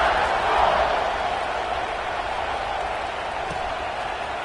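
A football stadium crowd at an Alabama versus Nebraska game roars in a broad, sustained wash of cheering before kickoff, swelling briefly early on and then holding steady at a distance.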